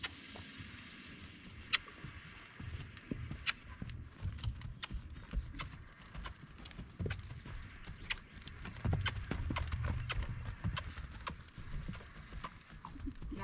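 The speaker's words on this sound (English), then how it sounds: "Aries wants to show off his canter, so let's run with it." The horse Aries canters on a training session, hooves landing in a quick, uneven clip-clop rhythm of sharp close thuds, with occasional quieter mechanical rattles and brief faint talk.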